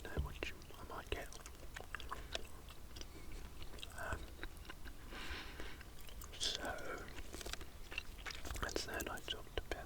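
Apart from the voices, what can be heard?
chewing PK chewing gum, ASMR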